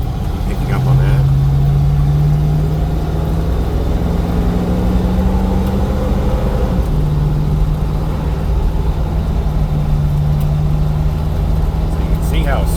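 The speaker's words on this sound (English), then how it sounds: "Great sound, true dual exhaust." A deep, steady rumble from a 1976 Ford Bronco's 302 V8 with true dual exhaust, a throaty note, pitch rising gradually then dropping and settling as it cruises near 60 mph, loud and close.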